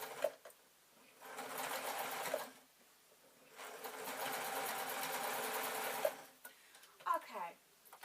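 An electric sewing machine stitches red felt for a bag, its steady whirring hum running in two long sustained bursts separated by a pause, with small clicks and handling noise between.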